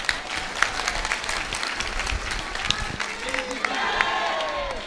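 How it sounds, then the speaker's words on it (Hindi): An audience at a religious gathering claps on cue, with steady applause and scattered cheering, voices talking over the clapping. "अब ताली बजाओ।"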